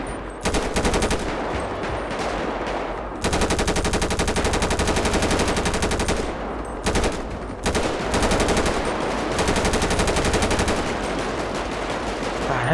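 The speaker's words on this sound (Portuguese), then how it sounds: "Tá um troco de tiro aqui, pô." Gunfire exchange in the video game GTA 5 roleplay: dense, loud bursts of automatic weapon fire, nearly continuous, with a few brief pauses between volleys.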